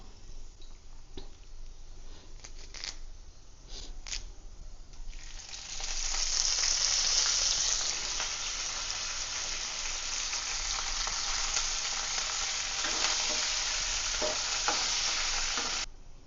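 Cashews frying in hot oil for a pepper pongal tempering, with a few utensil clicks and a soft sizzle that swells around six seconds into a loud, steady, close crackling hiss lasting to the end, no talking.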